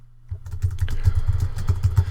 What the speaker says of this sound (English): I'm really good at typing.